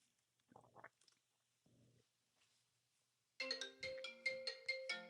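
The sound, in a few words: mobile phone ringtone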